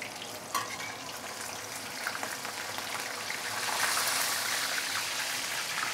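A whole snapper deep-fries in hot oil in a 32 cm Dolphin wok, giving a steady, close hiss and crackle that swells slightly louder toward the end, with no talking.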